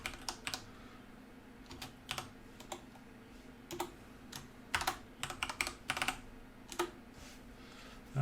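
Keys clatter on a computer keyboard in an irregular run of typing bursts, close and fairly quiet over a steady low hum, with no talking.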